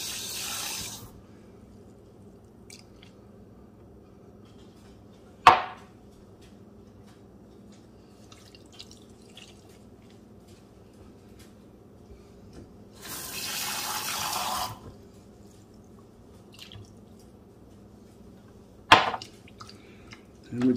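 A tap runs briefly twice, short rushes of water into a sink separated by quiet stretches and a couple of sharp clinks.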